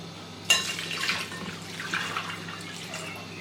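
Water poured into a bowl of jaggery for a sharbat, beginning with a sudden splash and then a soft, brief trickling gurgle at close range, fairly quiet with no voices.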